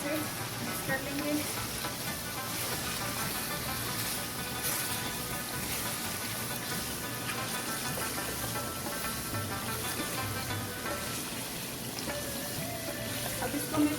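Chicken karahi spices stirred and frying in a pan, a steady broadband sizzle with scraping stir noises running throughout at moderate level.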